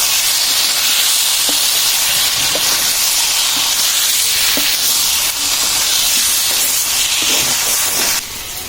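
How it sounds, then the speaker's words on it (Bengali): Taro balls (kochu laddu) dropped into a hot, well-fried spice mixture in a pan, producing a loud, continuous close hiss and sizzle that steadies throughout and eases slightly at the end, with no talking. "আর মা এখন কচুর লাড্ডু দিয়ে দিবে।"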